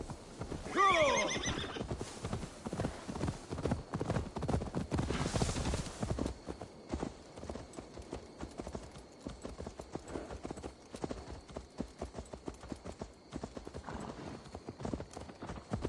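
Horse hooves clip-clop steadily in Assassin's Creed Valhalla, close and fairly loud, with a neigh or whinny near the start and a brief burst of louder movement partway through; no talking.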